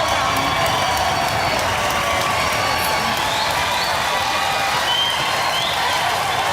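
A large Robot Wars studio audience applauds and cheers continuously for the finalists, a dense, steady roar of clapping with scattered shouts and whoops.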